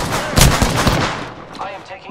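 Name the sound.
gunfire in video game Apex Legends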